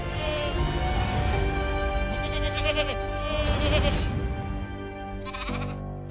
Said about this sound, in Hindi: टेम्पो से तो बकरियों की आवाज आ रही है।